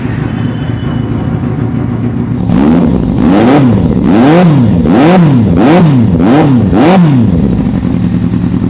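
A motorcycle engine idles, then revs hard in a series of about six rising and falling bursts, loud and close, with no one speaking.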